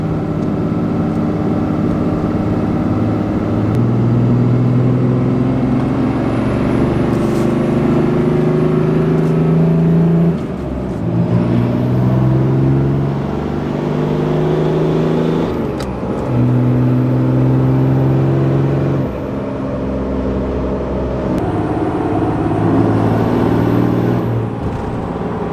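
A truck engine revs steadily while held in gear to burn off fuel, its loud, continuous drone rising and falling in pitch in repeated cycles, with a few brief dips between surges.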